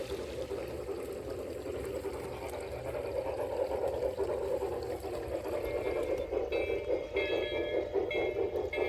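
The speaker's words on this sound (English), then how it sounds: "as the train enters tunnel number 3" A garden-scale model railway train rolls along an outdoor layout into a tunnel, a steady low rumble and rolling noise continuing throughout at moderate level, with faint higher tones appearing near the end.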